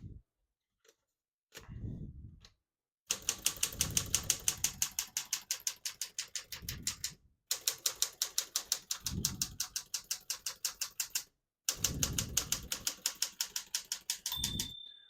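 Rapid keystrokes on a 1960 Smith-Corona Galaxie portable typewriter, running in dense bursts broken by brief pauses and carriage movements, with a bell ding near the end, close and clear with no talking.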